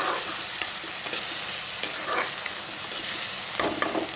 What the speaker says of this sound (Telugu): ఈ విధంగా ఆనియన్స్ వేయించుకున్నాక ముందుగా కట్ చేసి పెట్టుకున్న టమాటోలు కూడా వేసుకోవాలి